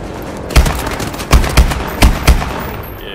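Rifle fire in Call of Duty: Advanced Warfare: five loud, sharp shots at irregular intervals, close and punchy over a low background din.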